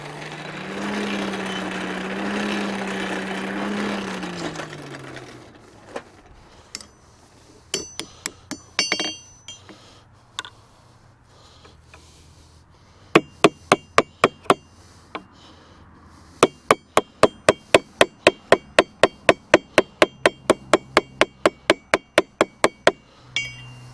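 A blacksmith shapes hot steel into a leaf, striking with a hammer in bursts of sharp metallic clinks, first scattered and then in long rapid rhythmic runs on the anvil, loud and close, after a short stretch of low tonal hum.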